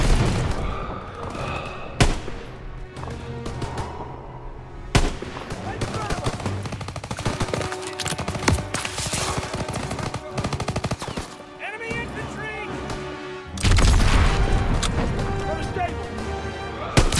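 Sustained machine gun fire mixed with rifle shots and heavy booms in a WWII battle video game set in the Hürtgen Forest, 1944. The bursts come loud and dense across the whole stretch, and there is a sharp surge of explosive noise near the end.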